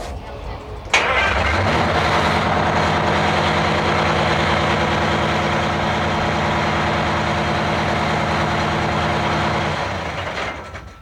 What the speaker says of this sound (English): We have switches on the dash that allow me to start the truck.